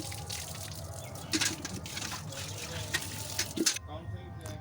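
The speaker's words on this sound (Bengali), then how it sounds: "আমি এবার বাসি কাজ সেরে ন্যাতা বালতি ধুয়ে নিচ্ছি।" Water runs and splashes steadily as a floor rag and bucket are washed in a village home, close and moderately loud, with a few louder sloshes before it stops abruptly near the end.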